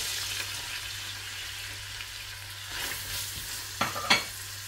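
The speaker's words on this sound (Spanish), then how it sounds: "una vez que está caliente el aceite, vamos a echar la cebolla." Onion goes into hot olive oil in a pan and fries with a steady close hiss and sizzle, a couple of sharp crackling spits standing out near the end.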